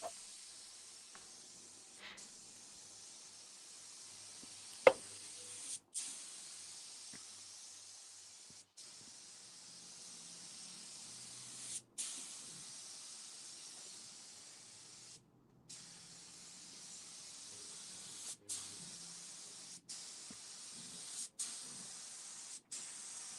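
A compressor-driven spray gun spray-paints a guitar silver sparkle, giving a steady, close airy hiss broken by a few short pauses and faint background knocks, with no talking.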